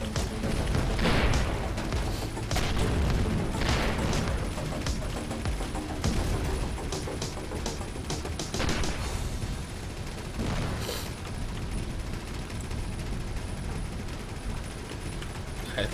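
Spaceship weapons fire in a space combat game, Avorion, rolling continuous bursts of rapid shots and booms layered over a dense rumbling background, loud and sustained throughout with no voices.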